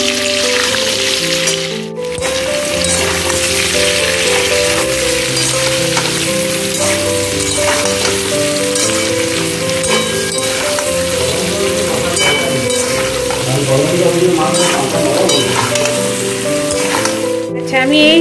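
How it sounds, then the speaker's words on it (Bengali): Potatoes frying in oil with salt and turmeric, a continuous dense sizzle that stays loud and close throughout, partly under background music and a voice. "নুন হলুদ দিয়ে লাল করে ভেজে নেব"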